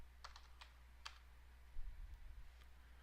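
Typing on a computer keyboard while entering photo tag values: a handful of faint, quick key clicks in an irregular rhythm, then a soft low bump, in a very quiet room.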